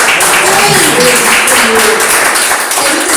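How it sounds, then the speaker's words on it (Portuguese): A church audience applauds during a service, a dense wash of clapping that stays loud throughout, with voices mixed in over it. "Você pode aplaudir o nome de Jesus?"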